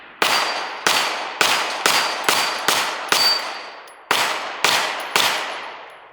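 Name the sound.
pistol firing Norma ammo from a KCI magazine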